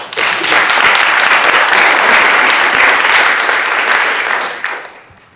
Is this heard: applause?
yes